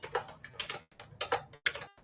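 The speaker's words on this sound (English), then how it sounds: "I'm typing" Quick bursts of keystrokes on a computer keyboard, clustered in short uneven runs of clicks close to the microphone, with brief pauses between them while entering text in a design app.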